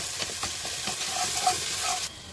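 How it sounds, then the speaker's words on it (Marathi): Cashews fried in oil in a large pot give a close, busy sizzle with stirring scrapes for about two seconds before the sound drops away abruptly, with no talking. "हे काजू टाकून देते इथं, कारण काजू ना छान आपण तेलामध्ये असे परतून घेतले ना ते खमंग लागते"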